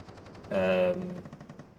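Burst of automatic cannon fire from a Polish Skot-2AP armored vehicle in a tank video game. One short, loud, dense rattle lasting under half a second, then quieter rhythmic noise trailing behind.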